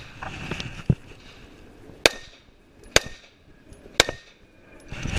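Sharp, loud pistol shots at an IDPA defensive shooting match, a pair of reports followed by three more single cracks spaced about a second apart, each with a short ringing tail over faint outdoor background.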